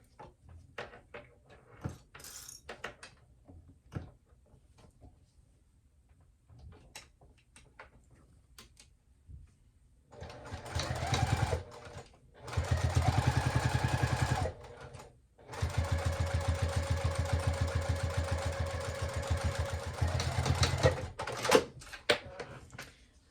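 A sewing machine stitches a clutch in several bursts of rapid, even mechanical chattering, separated by quiet stretches full of small handling clicks and fabric rustles.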